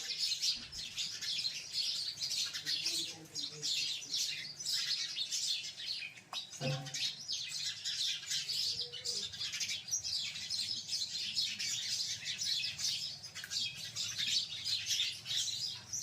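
House sparrows chirp continuously in a busy, dense chorus close by, with one dull thump partway through.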